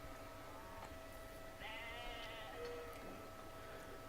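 A sheep bleats once in the strategy video game Civilization V. It is a single wavering bleat of under a second, midway through, heard over a constant droning game backdrop.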